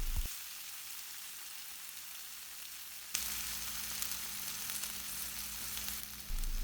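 Brinjals frying in a pan give a steady close sizzle with a soft hiss that jumps louder partway through and holds there, with no voices.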